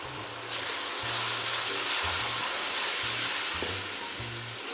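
Tomato paste sizzling and frying with garlic and ginger in a pan for a fish curry, a steady close hiss with soft stirring scrapes and bubbling, no talk.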